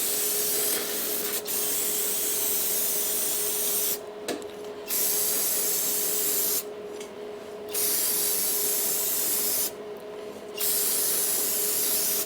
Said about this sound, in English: now we're just going to clean this off with our shop grade Windex